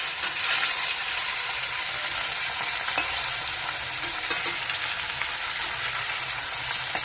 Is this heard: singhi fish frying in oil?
yes